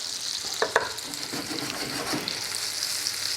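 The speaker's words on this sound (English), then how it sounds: "Butter's sizzling. I'm going to put the onions in for a couple of seconds." Onions hit a pan of sizzling butter, giving a steady frying hiss with a few brief stirring clinks near the start, close and moderately loud with no talk.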